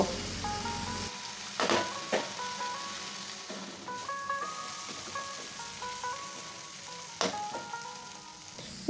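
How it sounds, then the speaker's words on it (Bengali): Long beans (barbati) frying in a pan for a vegetarian dish, giving a steady close sizzle with a few louder clattering stirs and scrapes, plus faint background tones, and no talking. "এবার চুলার আঁচ একটু বাড়িয়ে দিয়ে 2 থেকে 3 মিনিটের মতো সবজিগুলিকে একটু ভেজে নেব।"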